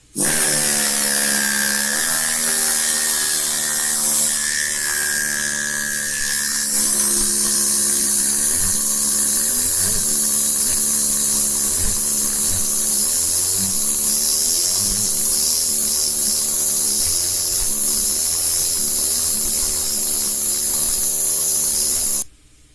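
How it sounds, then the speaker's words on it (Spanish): Pneumatic hammer driving a chisel to carve a V-groove in stone: a loud, continuous rapid-fire hammering buzz with a hissing air tone, running steadily and unbroken until it cuts off at the end. "en los martillos neumáticos damos muchísimos más golpes por segundo"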